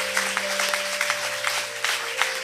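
A church congregation claps in rapid, uneven applause under a steady sustained organ-like tone, loud and continuous, with no voices on top.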